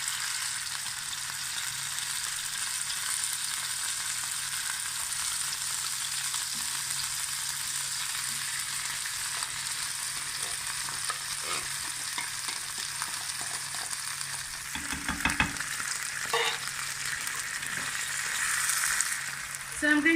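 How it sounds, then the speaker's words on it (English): Canned fava beans sizzling in a hot frying pan, a steady loud hiss of frying that continues throughout, with brief stirring clatter and bubbling bursts near the end. "So I'm putting 1 can of fava beans."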